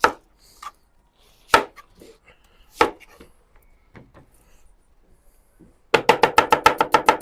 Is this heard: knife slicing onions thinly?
yes